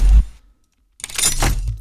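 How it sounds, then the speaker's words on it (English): Lockdown sound effect made for motion title design: a short heavy impact that cuts to silence, then a second bright, crashing metallic hit with a brief ring-out. "And then we have this other lockdown sound that sounds like this."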